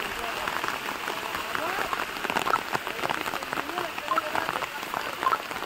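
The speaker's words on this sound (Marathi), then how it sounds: "पाऊस आला आहे बारीक बारीक बारीक." Light, fine rain patters steadily during an outdoor trek, a soft continuous hiss with scattered drop taps and faint background voices.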